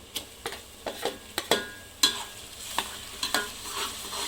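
Ginger, garlic and coriander paste frying with reddish-browned onions in a pan, a steady sizzle broken by a string of sharp stirring scrapes and taps, close and fairly loud, with no voices.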